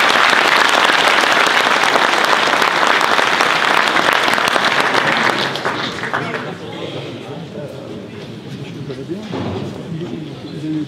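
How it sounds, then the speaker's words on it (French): Audience applause at a French-language event after a speech, a dense clatter of clapping for about five seconds that then thins into scattered claps and murmuring voices. "on peut encore les applaudir"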